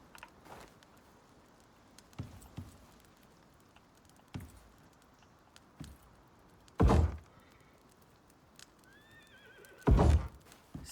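Two loud horse neighs in the survival game ICARUS, around seven and ten seconds, with faint thuds and clip-clop scattered between them in an otherwise quiet scene.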